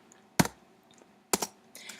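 Typing on a computer keyboard: a few close, crisp bursts of key clicks separated by short quiet gaps, with no talking.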